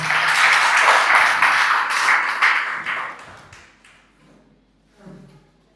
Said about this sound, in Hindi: एक बार फिर से इस बच्चे के लिए जोरदार ताली